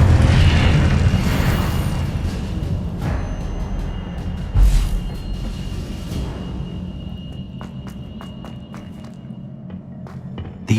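An Incendio fire spell cast in a Wizarding World game gives a rumbling burst that swells and fades, with a sharper thump midway, then a quieter settling tail and a few light clicks near the end.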